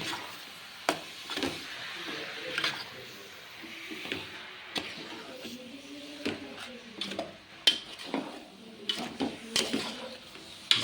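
Food is sautéed in a pan with a faint sizzle underneath, while a spoon scrapes and knocks against the metal in irregular clinks and taps, some close and sharp.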